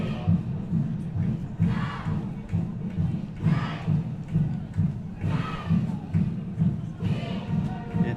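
Crowd at a high school varsity football game, with cheerleaders cheering for their team: a continuous roar of voices with rhythmic rising shouts every second or two over a low rumbling din.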